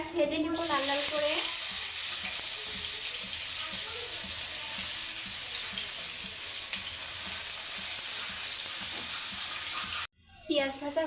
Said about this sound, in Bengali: পেঁয়াজ ভেজে নিব লাল করে।